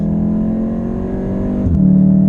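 An RSR VW Golf R engine drones steadily at the Nurburgring, loud and close, then a gear change gives a brief dip and the engine pulls harder at a higher, stronger tone.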